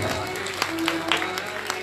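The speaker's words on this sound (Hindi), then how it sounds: "बोल हरे कृष्ण हरे कृष्ण ताली बजाते हैं" Audience clapping along to Hare Krishna kirtan at a Bhagwat katha gathering in Baraut, uneven hand claps mixed with sustained chanting and music, moderately loud and close throughout.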